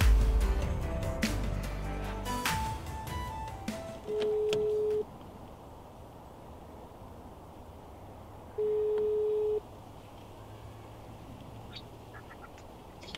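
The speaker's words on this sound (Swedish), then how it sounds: "Så vi tar och ringer han, se om han svarar." A phone's ringback tone sounds twice as long steady beeps several seconds apart, heard outdoors in cold, snowy conditions while calling a fellow angler, with quiet ambient noise between tones and some handling sounds at the start.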